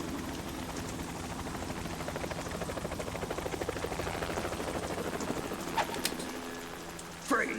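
Helicopter in the video game Metal Gear Solid 2, a steady, close rotor drone with rapid rhythmic chopping throughout, with a couple of sharp transient clanks near the end.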